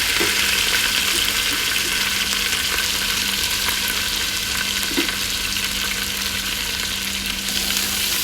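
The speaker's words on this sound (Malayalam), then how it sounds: "വെളുത്തുള്ളി, ഇഞ്ചി, പച്ചമുളക്, കറിവേപ്പില ഇട്ട് കൊടുക്കുക കേട്ടോ, പൊട്ടട്ടെ" Garlic, ginger, green chilli and curry leaves fry in hot oil for a date pickle, a loud, dense, unbroken sizzle heard close up throughout.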